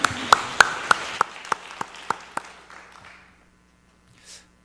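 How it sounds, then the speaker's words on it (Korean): A church congregation at a Wednesday service gives a brief round of applause, sharp, evenly spaced claps that fade out within a few seconds into near silence. "주님께 감사의 박수 올려드립니다"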